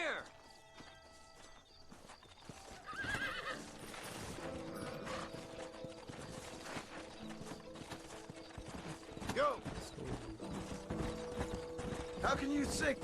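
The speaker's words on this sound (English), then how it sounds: "Horses are over here!" Horse hooves clip-clop steadily in the Red Dead Redemption western game, with an occasional neigh, mixed under music and other game sounds.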